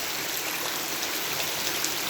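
First rain of the season pouring down steadily outside a home, a dense, even hiss of falling drops with no voices over it.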